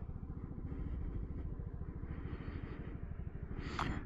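A 2024 Honda Ruckus scooter engine idles close by with a fast, even putter, then a brief higher whine or squeak rises near the end.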